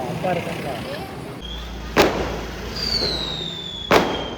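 A 60-shot Diwali firework box going off outdoors, with two sharp bangs a couple of seconds apart and whistling rising shots between them, over background chatter.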